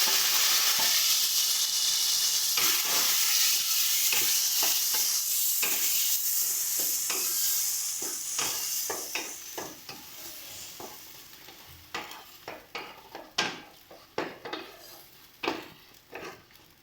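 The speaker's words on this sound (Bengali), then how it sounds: "এবার আমরা কচুটা দিয়ে দেবো।" Taro flowers stir-fried in a pan sizzle loudly at first, the frying fading as a utensil scrapes and clinks against the pan in repeated strokes, close and without talk.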